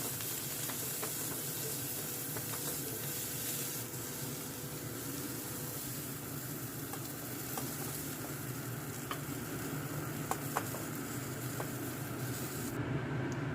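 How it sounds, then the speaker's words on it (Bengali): Cauliflower pieces frying in oil with salt and turmeric, a constant dense sizzle and hiss that holds steady for the whole stretch, with occasional faint clicks and no voices. "এবার ফুলকপিগুলোকেও ভেজে দেবো"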